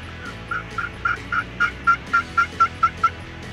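Wild turkey toms gobbling outdoors during a Nebraska turkey hunt, a series of about a dozen rhythmic, rapidly repeated gobbles growing louder and more regular, heard clearly alone without talk.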